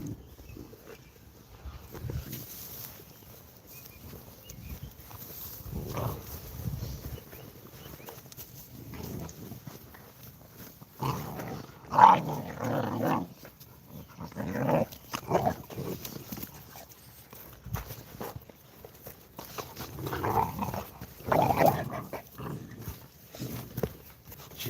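American Presa puppies play and scuffle, with low growls, snuffling and shuffling movement at close range and loud bursts in the middle of the activity.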